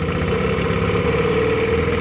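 A 1956 Wizard Super 5 WH-6 outboard motor runs steadily in neutral, giving a continuous, even, mid-pitched engine drone with a low rumble, close and fairly loud, with no talking.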